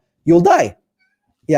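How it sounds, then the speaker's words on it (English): A female cat in heat meows in loud, drawn-out calls, one long wail then another starting after a pause, mixed with a person talking. "that's my cat, and she's in heat"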